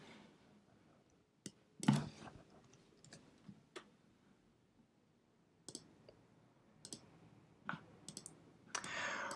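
Crisp computer mouse clicks in drill-hole shot design software, a handful of sharp isolated taps spaced irregularly across a quiet room background, fairly close and moderately soft, with no talking.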